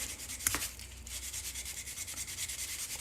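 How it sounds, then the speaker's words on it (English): Sandpaper rubbing back and forth over a wooden guitar pick and the cardboard beneath it, a steady close scratchy sanding with a sharp knock near the start. "I know I'm probably sanding a lot more cardboard there too."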